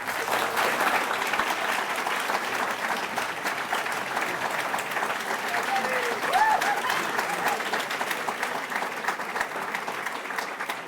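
Sustained audience applause fills a debate hall for a congressional district race, a steady dense clapping wash that holds at even loudness throughout with no speech over it.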